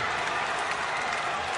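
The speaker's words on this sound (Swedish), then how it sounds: "Och det är ett enormt jubel som bryter ut i bortaklacken." Loud, dense cheering and applause from the away supporters' section at Läkerol Arena right after an equalising ice hockey goal, a steady crowd roar filling the whole stretch with no break.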